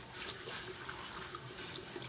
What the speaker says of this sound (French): On va le faire avec pression. Voilà, jusqu'à l'intérieur, il faut bien le laver.